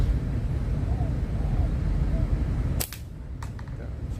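Rubber-band slingshot fired outdoors, one sharp snapping shot cutting through steady wind rumble, then a fainter second snap, close and loud.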